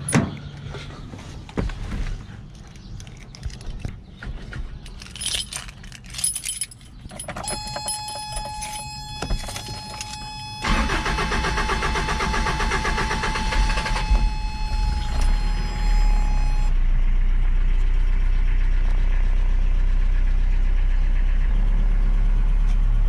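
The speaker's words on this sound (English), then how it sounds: "but let's see if we'll turn on right now." Toyota Hilux pickup with an upgraded XS Power battery: door and dash chimes and clicks come first, then the engine cranks and catches into a steady, loud idle that carries on to the end, with no talking.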